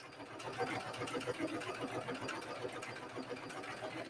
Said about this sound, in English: So I'm going to go ahead and stitch as close to on that as possible all the way around.